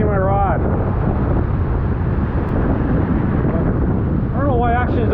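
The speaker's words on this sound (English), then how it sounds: "the wind's brutal" Strong wind buffets the microphone while fishing, a loud, constant low roaring rumble, with someone talking briefly at the start and end.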